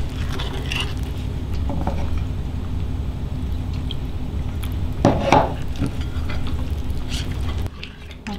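Flour and water are stirred into a batter in a bowl. Close, continuous scraping and stirring with occasional utensil clinks against the bowl, and no one talking.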